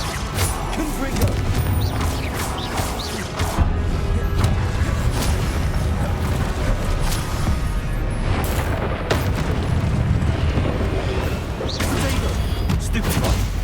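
Repeated booming magical blasts from the Confringo spell in Hogwarts Legacy, loud and dense, crashing over continuous game music and effects with a spoken spell voice mixed in.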